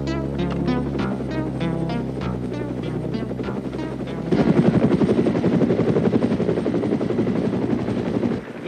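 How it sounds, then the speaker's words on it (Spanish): A helicopter in an action film scene: a tonal, music-like opening, then from about four seconds a loud, steady, thumping rotor roar fills the rest, close and dominant, with no talking. "¿Y ese helicóptero?"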